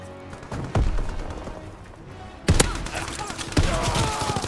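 Shotgun blasts in Call of Duty WW2, a few sharp, loud reports spaced over seconds with game ambience between, no voices.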